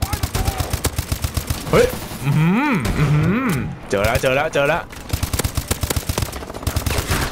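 Quick bursts of gunfire in the Call of Duty Advanced Warfare video game, sharp repeated shots under excited talk from a player, with an exclamation partway through.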